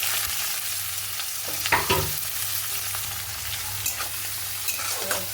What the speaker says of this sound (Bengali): এবারে আমি কাঁচা পেঁয়াজ কুচোনো ওটা দিয়ে দেব। কাঁচা পেঁয়াজটা এবারে দিয়ে দিলাম।